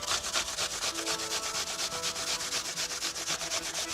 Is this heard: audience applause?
no